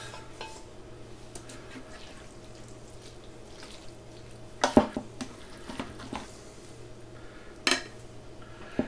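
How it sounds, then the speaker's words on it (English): Butter being mixed into freshly cooked spaghetti in a pot, quiet wet stirring and squelching with a couple of sharper clanks of a utensil against the metal, close by over a low steady hum. "you want to put 2 to 4 pats of butter in there to keep it from sticking together"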